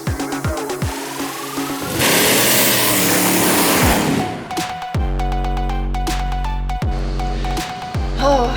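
Drag race car at a strip launching with a loud, dense roar down the track, then idling with steady low engine tone and repeated blips of revving near the microphone.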